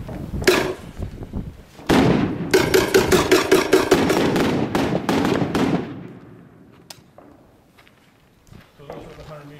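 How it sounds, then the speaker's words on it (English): Rifle-fired 100 meter flashbang rounds, a rapid string of loud, sharp bangs in quick succession at an outdoor range, followed by quieter echoes and some distant talk. "So those are the 100 meter flashbangs"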